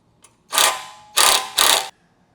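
A ratchet tightens a bolt while assembling a Valor Fitness CA-32 back stretch machine, giving three loud close-up clicking strokes, each a short burst of rapid pawl ticks, set against near silence.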